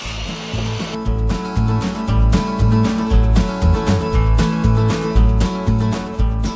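Power saw ripping a cedar fence plank into a narrow strip, a loud buzzing cut that rises and falls in repeated surges as the wood feeds through.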